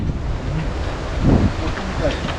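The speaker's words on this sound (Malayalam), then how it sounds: "കാറ്റടിക്കുന്ന സൗണ്ടാണത്" Strong wind roars steadily and broadband on a mountain at Agasthyarkoodam, with a louder gust swelling midway; talk may be faintly mixed in.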